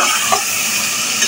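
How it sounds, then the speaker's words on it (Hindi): Chicken with chilies, black pepper and garam masala sizzles loudly in a pan for a dish of yogurt chicken, a continuous close frying hiss with a faint stir. "बस इसमें मिर्चों के साथ इसको भून लें"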